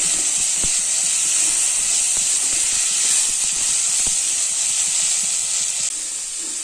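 Steam hisses steadily as the lid comes off a pot of vegetable kurma simmering on the stove, a broad continuous wash of sound with a few faint clicks underneath, staying even throughout.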